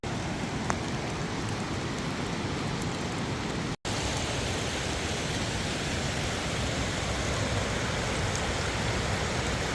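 Steady rain falls continuously on a hiking trail at Cloudland Canyon State Park, a dense, even hiss of drops on surfaces with no voices, briefly cut by a short gap.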